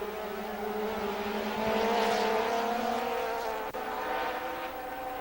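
Stock Car Júnior race cars roar through a curve at a 2007 round in Londrina, a steady loud engine drone with a swelling pass around the middle and a brief dip near the end.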